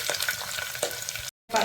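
Fenugreek and cumin seeds frying in hot oil for a small fish soup, giving a steady close crackling sizzle with a few sharper pops and stirring scrapes, cut by a brief drop-out before the sizzle resumes.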